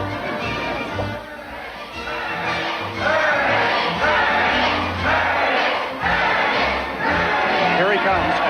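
An excited crowd cheers and shouts at Splash Mountain as a daredevil arrives, the noise swelling louder partway through and rolling in waves of whoops and yells.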